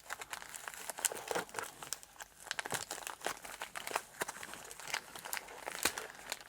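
Plastic and cardboard packaging of a 2023 French army ration pack being cut and torn open, a close, quiet run of crinkling, tearing and crunching with no voices.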